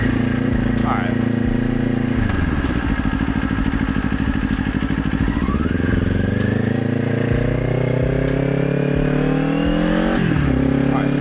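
A motorcycle on a test ride after chain maintenance and tightening, its engine droning loud and steady up close, rising and falling in pitch through gear changes, with wind rush and occasional clatter over the whole stretch.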